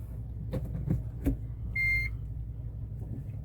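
A car backs up slowly during a driving lesson, its engine running low and steady with a few soft knocks and one short electronic beep partway through.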